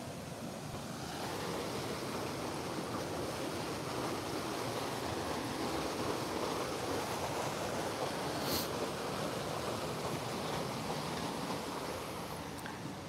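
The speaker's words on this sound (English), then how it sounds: "And there's a waterfall." A freshwater waterfall outdoors gives a steady, broad rushing roar of falling water, constant and fairly close throughout, with no voices over it.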